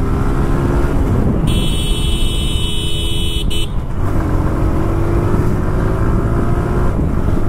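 A TVS Apache RTR 160 2V BS3 motorcycle engine drones steadily and loudly at close range as it rides, with a sustained horn honk sounding for about two seconds partway through.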